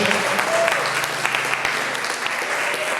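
A church congregation applauds loudly and continuously during a Wednesday prophetic service, with a voice carrying over the clapping.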